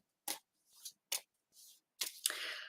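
Tarot cards are shuffled by hand in short, quiet bursts of riffling and sliding, several separate flutters and then a longer rustle at the end, close to the microphone.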